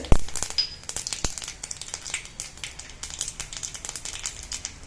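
Mustard seeds and urad dal tempering in hot coconut oil give a crisp crackle and popping sizzle, with a few sharp early pops and then steady fine spattering, close and fairly loud.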